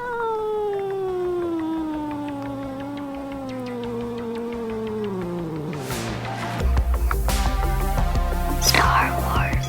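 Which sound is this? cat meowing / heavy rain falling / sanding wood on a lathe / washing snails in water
cat meowing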